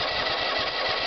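A Lawn-Boy zero-turn riding mower's engine running close by, a loud, steady mechanical drone with a slightly rough, pulsing throb and no talking over it.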